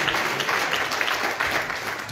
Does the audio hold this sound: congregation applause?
yes